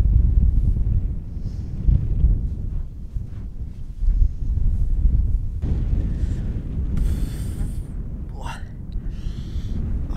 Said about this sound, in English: And it's really windy too.